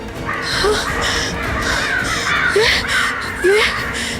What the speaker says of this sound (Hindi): कौवे की आवाज।